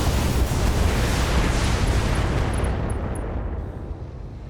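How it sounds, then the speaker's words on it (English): Mech in the BattleTech video game firing all weapons in SRM mode: a dense, continuous roar of missile blasts and explosions, loud and sustained, fading slightly toward the end with a few high electronic chirps. "SRM mode. Firing all weapons."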